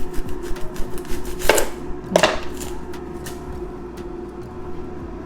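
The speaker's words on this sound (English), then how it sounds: "so I'm just going to slice it" Knife slicing skinned tilapia fish on a board, a run of soft light taps followed by two sharper cutting strokes, close and quiet with a faint hum behind.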